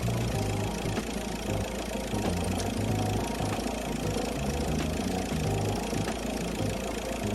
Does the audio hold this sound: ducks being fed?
no